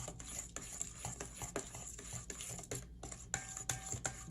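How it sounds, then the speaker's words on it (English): A pot of turkey wings in apple cider vinegar is stirred with quick, regular scraping strokes and light clinks, close and fairly quiet, with no talking. "So I'm just going to give this a nice stir."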